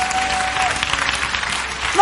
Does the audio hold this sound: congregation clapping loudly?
yes